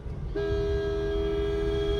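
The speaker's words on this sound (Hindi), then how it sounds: "अब इस बंदे को हॉर्न दो" A single sustained car horn blast on a highway during an overtake starts sharply and holds steadily, loud and close, over low road rumble.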